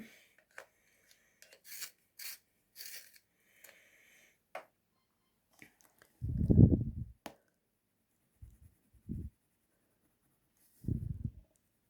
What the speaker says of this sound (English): Just sharpen my pencil a bit.